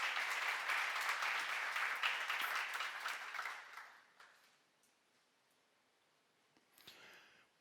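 Audience applause at a church seminar sermon, a dense wash of clapping that swells for about four seconds, then fades to near silence before a brief faint stir.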